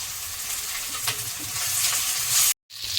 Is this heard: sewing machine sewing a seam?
no